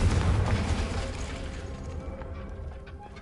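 A Confringo blasting spell detonates in Hogwarts Legacy with a single heavy boom that starts loud and close, then rumbles away into a fading tail.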